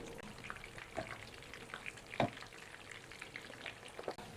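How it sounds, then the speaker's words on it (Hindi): Snacks fry in oil in a pan with a soft, continuous sizzle. Faint crackles and a few louder pops break through as the pieces cook. "हमने इनको उलट पलट करते हुए तकरीबन 4 से 5 मिनट के अंदर ही हमारे ये अच्छे से फ्राई हो गए हैं"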